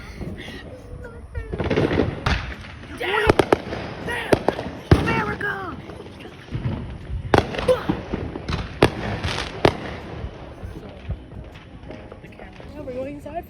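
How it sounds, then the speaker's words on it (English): Fireworks go off outdoors in a run of loud booms and crackling bursts, several sharp reports scattered irregularly over the stretch, while people shout and talk excitedly between the blasts. "Just to hear the biggest freaking fireworks I've ever heard go off"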